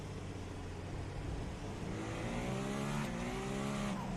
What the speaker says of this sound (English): Listening to that engine spool up, the Acura has an engine initially slated to fit into an Indy car.